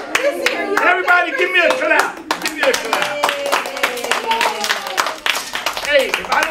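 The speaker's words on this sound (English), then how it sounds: "give me a clap." Children clap their hands during a mayor's read-aloud visit at a school in East Chicago, a quick run of close, sharp claps with lively young voices talking over them.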